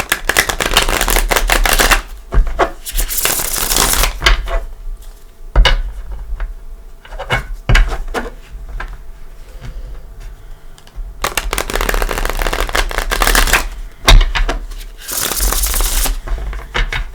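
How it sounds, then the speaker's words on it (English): Gilded Tarot cards shuffled by hand in a few close, crisp bursts of riffling and flicking, separated by short quiet pauses, with no voices. "Let me give it a couple shuffles."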